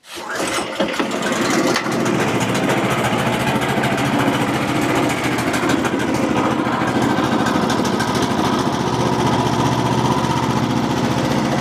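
A sawmill engine fires up and settles into a loud, continuous running roar with a busy mechanical chatter, held steady and close as it warms up, with no talk.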